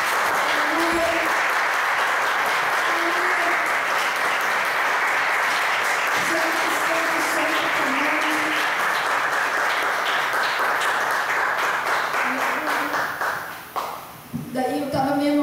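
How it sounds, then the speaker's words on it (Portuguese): A Baptist church congregation at a morning consecration service applauds at length, a loud, sustained wash of clapping with faint voices and tonal sounds mixed in, thinning out toward the end. "Você pode aplaudir o Senhor, irmãos?"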